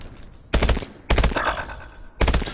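Three short bursts of rapid automatic gunfire in Call of Duty Advanced Warfare, each sharp and loud with brief gaps between them.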